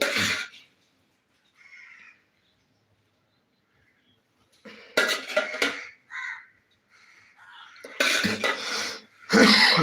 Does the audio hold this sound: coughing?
yes